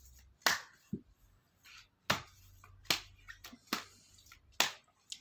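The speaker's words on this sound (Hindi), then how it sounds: "ये साइड में मैं शफलिंग कर रही हूँ कार्ड्स की।" A deck of cards is shuffled in short, separate bursts, each a crisp riffling snap followed by quiet, repeated about six times, close and with no talk.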